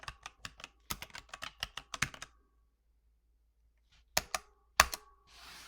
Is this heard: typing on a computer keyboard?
yes